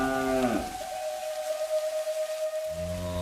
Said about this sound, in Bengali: মহিষগুলো মনে হয় টের পেয়েছে, শব্দ করছে।